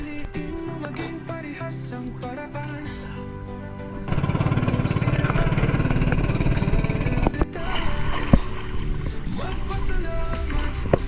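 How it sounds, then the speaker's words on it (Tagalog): A fishing boat's engine runs close by at a shallow-water spot during a spearfishing trip, a loud rumbling drone that grows harsher and louder partway through and carries on steadily. "Abanti na tayo at pandar lang ng makina."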